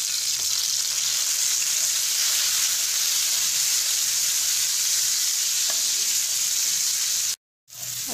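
Onion, tomato and green chili fry in a pan for a chicken paratha roll, giving a steady, close, dense sizzle that runs unbroken except for a brief dropout near the end.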